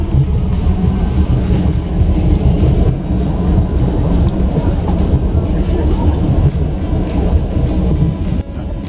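An automated train rumbles steadily across Tokyo's Rainbow Bridge toward Odaiba, a loud continuous rolling roar with rattling wheels, close and unbroken throughout.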